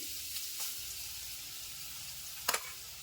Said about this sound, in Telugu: క్యారెట్ వేసుకున్నాక కలుపుకుంటూ పది నిమిషాలు ఫ్రై చేసుకోవాలండి